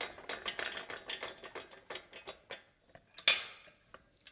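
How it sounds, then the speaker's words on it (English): A metal press tool part from a Nolathane NTK001 press tool kit is clamped in a bench vise. A run of close, rhythmic metallic clinks and rattles ends in one sharp, louder clank. "I'm going to put that in my vise around that way"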